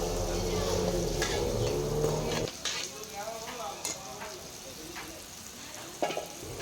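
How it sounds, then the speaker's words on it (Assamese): Onions fry in a pan, browning lightly. A loud sizzle fills the first couple of seconds, then quieter stirring and utensil clinks follow. "প্ৰথমতে পিঁয়াজখিনি অকণমান সময় ৰঙচুৱা কৰি লওঁ"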